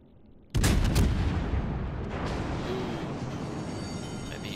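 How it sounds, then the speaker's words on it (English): Heavy naval gunfire from an enemy warship in World of Warships: Legends erupts as a loud, sudden boom, then settles into a long rumbling roar that fades slowly without dying away. "And he has fired his guns"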